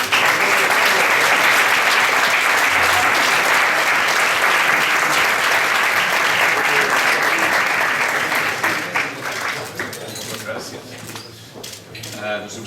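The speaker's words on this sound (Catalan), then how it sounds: "L'Irene Mir, un aplaudiment, sisplau." Loud, dense audience applause at an award presentation event, a sustained roar of clapping that holds steady for about nine seconds before thinning and fading, with voices emerging near the end.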